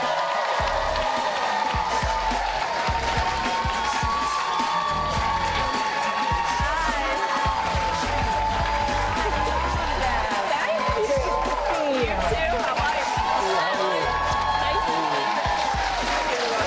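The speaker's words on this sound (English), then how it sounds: "Give her a big cheer." A studio audience on a morning talk show cheers and applauds steadily for arriving guest Emily Blunt, a dense, continuous crowd roar with whoops, heard under ongoing talk.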